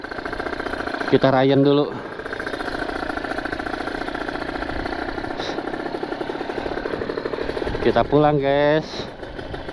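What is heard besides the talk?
ported Kawasaki Ninja RR motorcycle engine warming up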